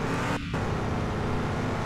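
Engine of a red JDM car in the Car For Sale Simulator video game, a quiet, steady low hum running alone for under two seconds with one brief dip.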